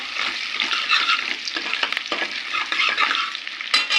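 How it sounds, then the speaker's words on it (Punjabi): Chopped garlic and ginger roast in a pan for hotel-style dal makhani, giving a loud, close, bright sizzle with wet stirring and scraping that rises and falls over a few seconds. "ਲਸਣ ਤੇ ਅਦਰਕ ਪਾਵਾਂਗੇ ਤੇ ਆਪਾਂ ਇਹਨੂੰ ਥੋੜਾ ਜਿਹਾ ਭੁੰਨਾਂਗੇ ਇਦਾਂ"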